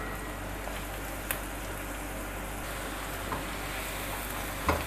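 Two finely chopped onions softening in a pan, giving a steady, gentle sizzle and crackle throughout at close range, with a few faint clinks from stirring and no talk.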